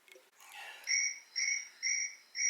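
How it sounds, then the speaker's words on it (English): Crickets chirp in a steady, evenly spaced rhythm, four clear repeated trills that stand alone and sound fairly close after a brief faint rustle. "Sounds like crickets."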